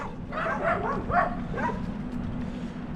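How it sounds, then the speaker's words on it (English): Dogs on a rural Minnesota road in 7°F winter weather during a bicycle tour, giving a few short yips and barks over steady wind and road noise, moderately close. "we got some dogs. They're gonna want to race."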